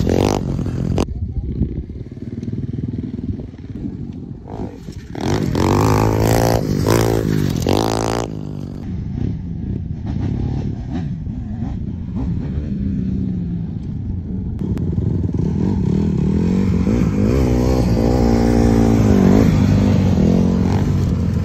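Pit bike engine ridden on hilly dirt trails at sunset: a buzzing small-engine rumble that rises and falls with throttle, near and fairly loud, with someone talking over it throughout.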